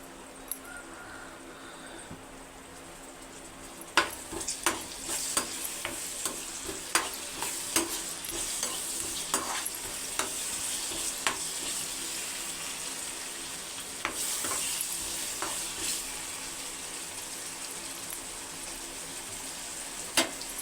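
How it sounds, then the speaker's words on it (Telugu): Chopped tomatoes fry for a chicken gongura curry, a soft steady sizzle in the pan broken by repeated sharp clicks and scrapes of a spoon stirring against the pot. "దాంట్లో ముందుగా తరిగి పెట్టుకున్న టమాటా ముక్కలు కూడా వేసుకుందాం"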